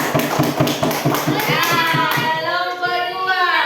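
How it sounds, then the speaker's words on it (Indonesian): A small group claps in quick, steady rhythm, then children's voices rise over the fading applause. "Tepuk tangan."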